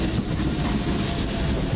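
A train pulling into Shadwell station on the London rail line, a continuous loud rumble of wheels and carriages filling the whole moment with no voices.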